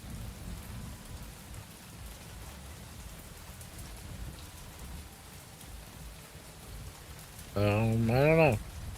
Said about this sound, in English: I don't know if I've ever remember it raining like this in the game.